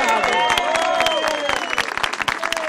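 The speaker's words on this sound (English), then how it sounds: "So let's have a round of applause for Ozzy." An audience applauds at a jazz event on Pier Avenue in Hermosa Beach, with dense, fairly loud clapping, some voices and cheering mixed in, and a steady wash that thins slightly toward the end.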